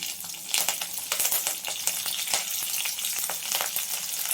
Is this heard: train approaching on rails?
no